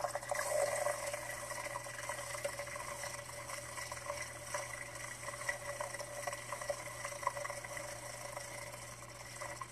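A Luxe brush cleaner spins a makeup brush in water, giving a soft continuous whirring hum with watery swishing and rubbing, fairly quiet and close.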